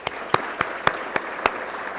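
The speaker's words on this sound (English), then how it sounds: "Give them a round of applause again." Audience applause at a city innovation study presentation, a sustained wash of clapping with several sharper claps standing out, fairly close and steady throughout.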